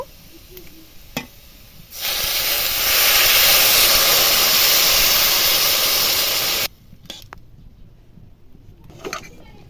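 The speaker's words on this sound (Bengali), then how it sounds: "এবার জল দিয়ে দেব" Water poured into a hot pan of spice-fried potatoes for a pangas fish curry sets off a loud, steady steam hiss lasting about five seconds, then drops to quiet stirring and faint background noise.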